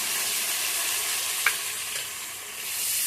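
Ginger, cumin and chili paste with turmeric fry in hot oil, giving a steady bright sizzle with one brief stirring clink midway, close up and without voices.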